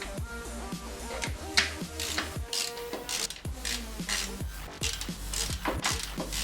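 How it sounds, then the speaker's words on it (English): A 10mm socket ratchet tightens bolts on a bypass valve install on a Mazdaspeed3, giving quiet repeated ratcheting clicks and sweeping mechanical rasps in uneven bursts, fairly close and with no talk. "We'll now use our 10mm socket to tighten them down"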